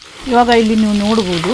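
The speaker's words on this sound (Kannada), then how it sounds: "ಆವಾಗ ಇಲ್ಲಿ ನೋಡಿ ಚಪಟ ಚಪಟ ಅಂತ ಸಪ್ಪಳ ಬರುತ್ತೆ" Butter boiling down into homemade ghee crackles and sputters in the pan, a soft sizzle running under a close voice speaking throughout the short moment.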